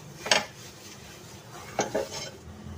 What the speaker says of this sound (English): Clean the pan with a cloth